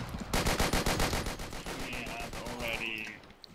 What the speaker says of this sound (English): They are shooting from the town square southern